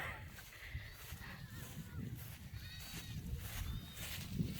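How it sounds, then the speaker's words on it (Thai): Goats and kids bleat at a farm, a few short, faint calls from animals nearby, set against outdoor ambience. "ลูกแพะเดินมาหาคุณแล้ว"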